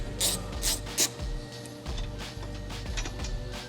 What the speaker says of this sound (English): Front of the strut bar is held on with a 13mm bolt. We'll go ahead and remove that one too.